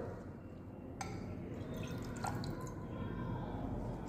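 Alcohol is poured into a laboratory beaker that already holds cinnamon oil, giving a soft, steady liquid trickle with a couple of faint glassy drips, close by and fairly quiet.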